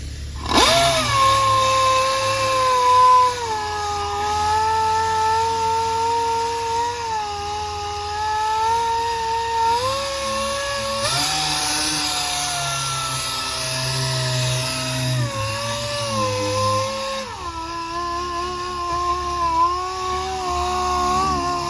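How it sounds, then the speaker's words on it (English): A 6-inch DA sander feathers the edges of body panels on a Plymouth Scamp, whining steadily and close up with small wavering pitch shifts as it moves around the spots, with no talking. "I'm going to go around all the edges where I can't get any of those big sanders in, like along here and stuff, with my 6-inch DA"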